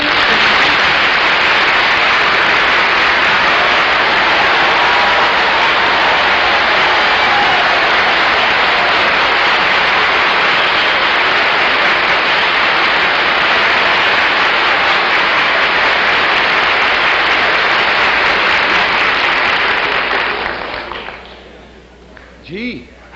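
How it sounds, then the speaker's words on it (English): Loud, sustained applause from a large television studio audience on a panel show, dense and steady for about twenty seconds before quickly dying away. "thank you very much for your wonderful applause"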